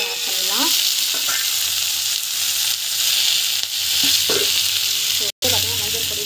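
Mixed vegetables for sambar sautéing in a hot pan, a loud continuous close sizzle with occasional spoon scrapes and stirring clatter, briefly cut off near the end.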